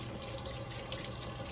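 Steady running water from a kitchen tap pours over the plate of a small mini waffle maker during rinsing, a constant close hiss with no voices.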